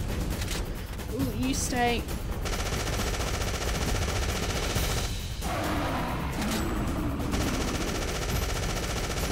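Sustained automatic gunfire in the video game Afterfall Insanity, dense rapid bursts running nearly the whole time under a speaking voice.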